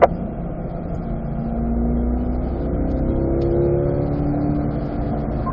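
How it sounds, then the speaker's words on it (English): A Corvette pulls out of a track corner at the Ron Fellows owner school, its engine note rising steadily and then stepping down as it shifts into fourth, loud and close from inside the car. "We're going to accelerate out. I'll shift to fourth gear."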